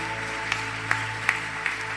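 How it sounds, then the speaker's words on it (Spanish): A church congregation claps during a Sunday service, a soft, steady patter of applause with a few sharper individual claps standing out, over a low sustained background hum. "Entréguele un fuerte aplauso al Señor, porque Él se lo merece."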